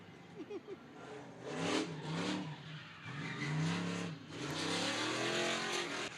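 Race cars roar around an oval track, engines rising and falling as several cars pass close by, with a race announcer speaking over the sustained motor noise.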